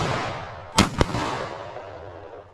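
Two sharp shotgun shots ring out in quick succession during a woodcock hunt in Ireland, each a loud crack with an echoing decay into the outdoor quiet.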